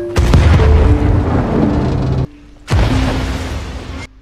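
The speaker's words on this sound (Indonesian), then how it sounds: "Merasa kalau tempat itu berbahaya, Dragon dan Chris segera meledakkannya." A powerful explosion set off by soldiers in an action film, loud and sustained with a deep rumbling roar, a brief lull, then a second heavy blast surging back up and trailing off.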